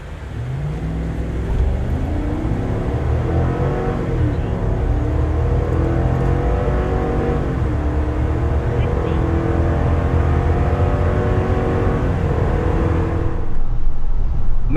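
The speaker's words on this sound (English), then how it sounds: "420 horsepower, 460 pound-feet of torque. All that power does go through a 10-speed transmission." A 2026 Chevy Tahoe with the 6.2-liter gas V8 and 10-speed transmission accelerates hard, its loud engine note rising steadily through the gears for the whole stretch before easing off at the end.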